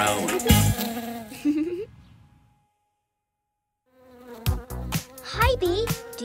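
A cartoon bee's buzzing from a children's nursery-rhyme farm song, heard as bright, wavering buzzy tones in two bursts separated by a stretch of silence, fairly loud and close, with no talking over it.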